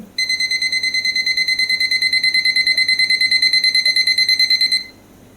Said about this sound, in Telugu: ఇది మనకి కంటిన్యూ అనేది బజర్ అనేది చెప్తూ ఉంటుంది